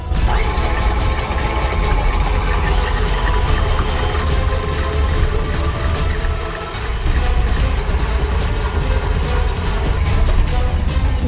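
An electric mixer whisks three egg whites with salt on high speed, a loud constant mechanical whir with a rattling beater clatter that dips only briefly midway.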